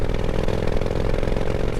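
A 1998 Honda Shadow cruiser with a 5-speed shaft-drive gearbox cruises in fifth gear at about 2,000 RPM, giving a steady, low, even engine drone throughout.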